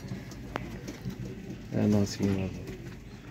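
Fancy breeder pigeons give two low, throaty coos in quick succession, close by, while someone speaks briefly nearby.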